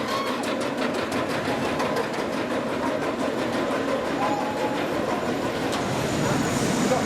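Icon roller coaster train running at Blackpool Pleasure Beach, a steady loud rolling roar with rapid rhythmic clatter of wheels on track, continuous and close throughout.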